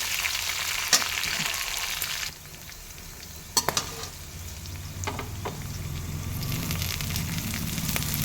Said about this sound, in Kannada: ಮೆಣಸಿನ್ಕಾಯಿ ಸ್ವಲ್ಪ ಫ್ರೈ ಆದಮೇಲೆ ನಾನು ಇದಕ್ಕೆ ಕರಿಬೇವನ್ನ ಆ್ಯಡ್ ಮಾಡ್ತಾಯಿದ್ದೀನಿ